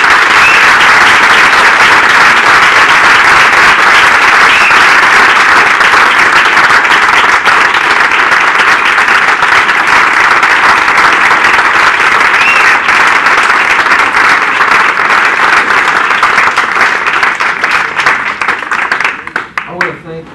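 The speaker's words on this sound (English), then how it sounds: "I'd like to give them a round of applause." Sustained, loud audience applause fills the room after a 2010 Arkansas Republican U.S. Senate candidates' debate sponsored by the Pulaski County Republican Committee, steady throughout before tapering off at the very end.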